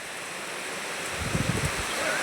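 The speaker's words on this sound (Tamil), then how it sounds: "நல்லா காற்றடிக்குது, கிளைமேட் நல்லா இருக்குது" Wind rushes in a steady broad hiss with gusty buffeting, loud and close, a few soft thumps underneath.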